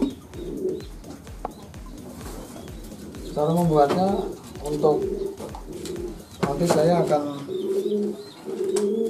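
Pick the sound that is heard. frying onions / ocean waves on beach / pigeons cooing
pigeons cooing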